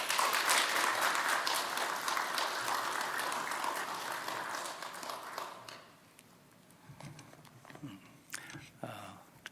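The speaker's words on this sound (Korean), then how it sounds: "이제 나오실 때 박수로 환영해 주십시오." A church congregation claps to welcome a missionary to the front, with loud, dense applause that fades after several seconds into scattered claps and quiet room shuffling.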